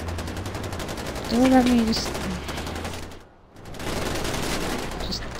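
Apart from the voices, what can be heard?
gunfire in Far Cry 4 video game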